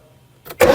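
A Morris 2200 barn find cranks and catches after 30 years unused, run at half throttle: a short stuttering turn-over, then the engine bursts into a loud, steady running roar.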